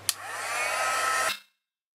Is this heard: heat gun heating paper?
yes